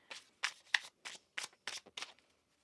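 Tarot cards being shuffled by hand in a series of about eight crisp, riffling bursts with short pauses between them, close and fairly quiet, with no talk over them.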